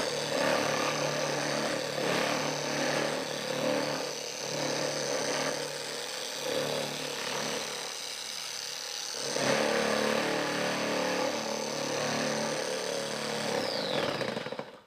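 A detailing polisher spins its pad inside a Lake Country System 4000 pad washer, giving a steady, fairly quiet motor whine with a churning rumble throughout.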